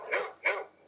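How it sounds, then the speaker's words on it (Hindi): A dog barks twice in quick succession, fairly close but at modest volume, with no speech over it, in a domestic scene from a Hindi TV drama. "अरे भैया बस एक कुत्ता ही तो भौंक रहा है।"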